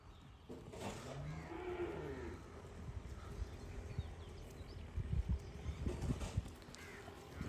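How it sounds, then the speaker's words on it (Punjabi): Cattle moo repeatedly, several deep drawn-out calls from a herd close by, over a constant rustle of hooves and farmyard bustle. "ਲੋ ਜੀ ਗਾਵਾਂ ਆਈਆਂ ਸਾਰੀਆਂ"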